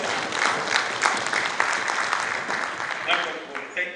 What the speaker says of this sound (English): Let us clap another one.